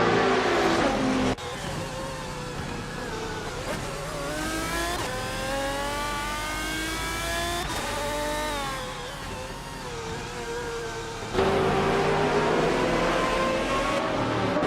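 Cars racing side by side in a racing video game, engines whining and revving continuously as they shift up and down through gears, loud and close with no talk.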